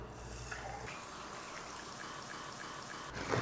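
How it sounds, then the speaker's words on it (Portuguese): Water pours into a cooking pot of oxtail stew already holding beer, a steady trickling stream that turns louder and splashier at the end. "Junto com a cerveja, vou pôr mais 2 copos d'água."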